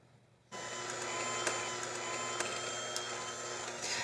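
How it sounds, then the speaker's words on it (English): A small electric hand mixer whirs steadily after starting up, beating a cup of softened butter with a cup of sugar; the tone is even, close and fairly quiet, with faint clicks of the beaters against the bowl and no talking. "mix together with your little hand mixer"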